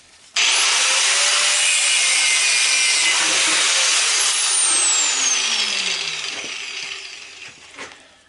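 An angle grinder cuts metal while scrapping an air compressor: a loud, continuous gritty whine with a harsh hiss. It starts abruptly, holds steady for several seconds, then slowly fades near the end, with no talking.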